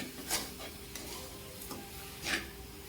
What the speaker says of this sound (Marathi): आता मी यात साखर टाकून घेतली आहे मिल्क पावडरही टाकली आहे त्याला मस्त मिक्स करून घेते